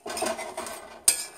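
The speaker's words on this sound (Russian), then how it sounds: "С момента закипания эти 5 минут мы их аккуратненько вот так помешиваем." A spoon stirs marinated mushrooms in a pot, scraping and clinking against the metal in a few short, close strokes that end in a sharp knock on the rim.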